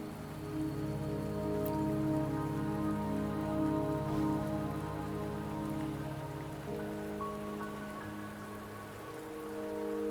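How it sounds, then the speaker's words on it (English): Steady rain falls in the Wuthering Waves video game, a soft, even patter spread across a mountain scene, with no talking and no thunder. "Don't worry, the rain won't last much longer."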